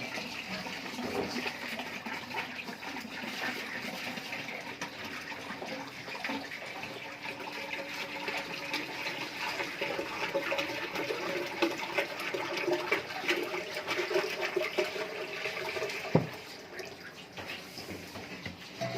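Water is flushed through a drain pipe at a work site, a steady rushing, gurgling flow with faint clanks, ending in a sharp knock before the flow eases off.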